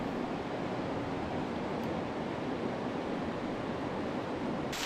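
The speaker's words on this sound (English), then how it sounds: "There's a bit of a waterfall coming down here." A small waterfall spills into a shallow New Zealand river in remote wilderness, giving a steady, even broadband rush of falling water, close and continuous, with no voices.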